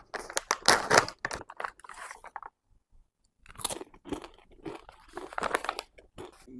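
Loud, close crunching and chewing of a dried taro chip comes in two bursts separated by a short pause, with no speech.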